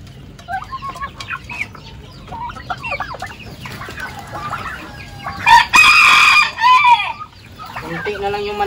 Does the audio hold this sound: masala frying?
no